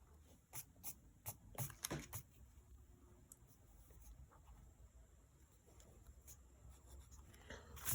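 A pencil scratches across paper while drawing a chibi-style Rapunzel character, intermittent close strokes that are brisk at first, then a quieter stretch, with faint scratching returning near the end; no talking.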